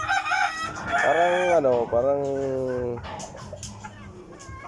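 Healthy backyard chickens on a small farm, a rooster crowing loudly up close in a long drawn-out call, followed by hens clucking and light farmyard noise, with a voice speaking briefly.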